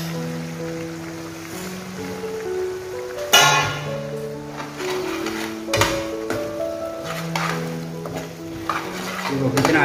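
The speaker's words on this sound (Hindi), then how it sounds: "अब डाल देता हूँ मैं सेव" Sev being tipped into a tomato gravy for dhaba-style sev tamatar sabzi and stirred, with close scraping and stirring strokes and a light sizzle over steady background music.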